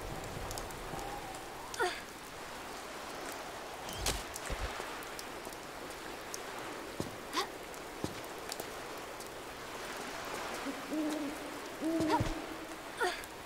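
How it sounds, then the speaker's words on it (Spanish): Steady rain ambience from a Tomb Raider custom level, a soft continuous patter with scattered drop-like ticks and occasional hooting calls over it, at a moderate level with no voices. "estamos jugando una de niveles de autor con efectos de lluvia de fondo"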